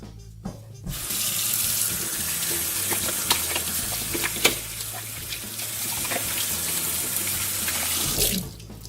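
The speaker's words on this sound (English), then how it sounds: "now let's rinse." A kitchen tap runs steadily as hands are rinsed under it, a continuous close hiss of water with small splashes, starting abruptly and cutting off near the end.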